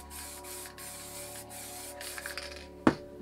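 An MTN Hardcore spray paint can puts down black paint in short repeated hissing bursts, close by, ending with a sharp spit or click.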